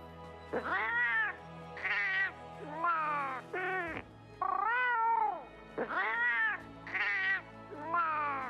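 Several cats in Monster Hunter: World meow one after another in a steady series of clear, close, fairly loud calls, with no talking over them.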